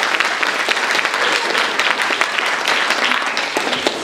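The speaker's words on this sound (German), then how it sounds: "Vielleicht nochmal einen Applaus dafür nehmen." Applause from the audience at a music school student concert, dense and loud clapping that holds steady for four seconds without any voices on top.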